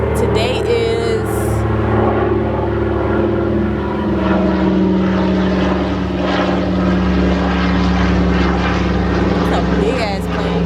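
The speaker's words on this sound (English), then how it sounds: "a big ass plane" A big plane passes overhead with a steady, loud propeller-like drone that holds through the whole stretch, and a person talks briefly over it at the start.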